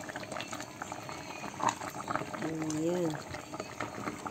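Molokhia (saluyot) soup with chicken and garlic bubbling in a pot, a steady close simmer with small pops, and a voice speaking briefly over it midway.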